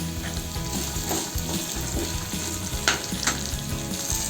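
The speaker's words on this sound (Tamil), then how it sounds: "வெங்காயம் 1 நிமிஷம் நல்லா வதக்கி விடணும்" Chopped onion and curry leaves sauté in hot oil in a pan for a peanut chutney, a steady, close sizzle broken by a couple of louder spatula scrapes and stirs.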